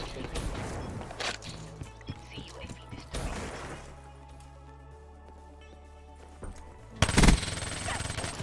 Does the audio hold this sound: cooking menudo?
no